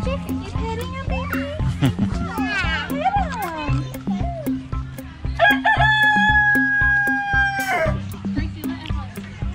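A rooster crows loudly in a long, rising call at a zoo while children chatter and shout nearby, with rhythmic background noise.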